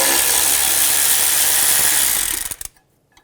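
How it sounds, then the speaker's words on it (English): A power tool with a 10mm socket spins out the bolts of the ABS bracket on a 2003-2008 Honda Pilot, a loud, steady whirring buzz that runs for over two seconds and then cuts off, leaving near silence. "Using a 10mm socket, we're going to remove the 2 bolts for the ABS bracket."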